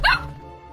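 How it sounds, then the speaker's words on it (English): A single short dog bark, close and fairly loud, fading quickly into a quiet tone. "I've always wanted a dog."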